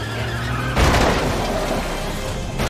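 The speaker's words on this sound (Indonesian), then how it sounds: "Mobil melaju kencang." A car races hard in a tense action movie scene, a loud burst of engine roar and tire noise surging up partway through, then cutting off abruptly at the end.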